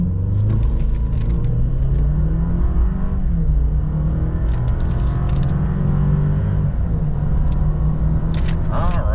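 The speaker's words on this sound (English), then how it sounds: "we're going to brake rev it and see what the 8-speed can do for putting the power down" A 2023 Chevrolet Silverado pickup with the 2.7-liter turbo engine and 8-speed automatic makes a hard brake-rev launch at about 3,400 feet elevation. The engine gives a loud, steady drone whose pitch climbs as it pulls, close and continuous throughout.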